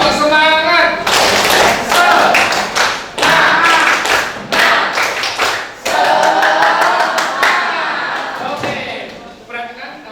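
A school class performs a rhythmic spirit clap led by a teacher, with sharp bursts of many hands clapping together in short patterned groups and a teacher's voice calling out between them.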